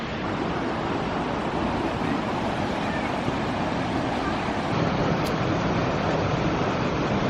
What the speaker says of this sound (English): We just stopped to check out the falls and a little bit of the creek.